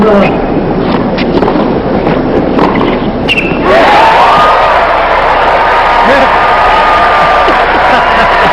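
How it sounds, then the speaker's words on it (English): A tennis crowd applauding and cheering at the 1994 US Open during the Sampras versus Smith third-round match, a loud, sustained broadband roar of clapping that swells after a brief thump. "Crowd loves this effort."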